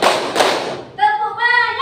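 A school class claps hands together in a quick, loud burst at the start, then voices follow in the classroom.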